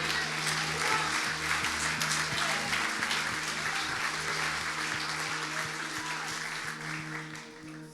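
Church congregation applauding during an evangelical service, a steady dense wash of clapping that holds throughout at moderate level, with a sustained low tone from a keyboard or organ underneath.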